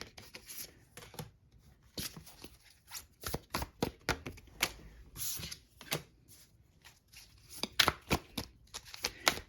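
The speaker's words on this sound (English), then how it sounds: "we're just going to shuffle and see what comes up for you" Tarot cards are shuffled by hand close up, giving quick crisp riffling bursts in an irregular rhythm with short pauses between handfuls, and no talking over them.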